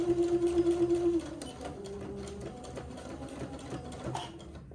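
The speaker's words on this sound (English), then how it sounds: "I'll sew backward and forward at the end of the casing to hold that elastic into place." A domestic sewing machine stitches backward and forward over an elastic casing on a garment, with a steady close motor whir that shifts pitch as the direction reverses, and no talk.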